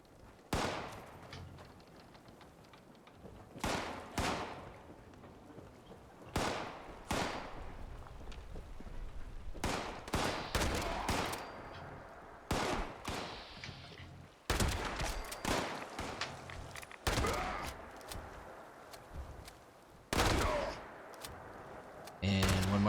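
Gunfire in the video game Fallout 76, heard as a series of sharp, loud shots and short bursts spaced irregularly across the stretch, with quieter gaps between and someone talking in places.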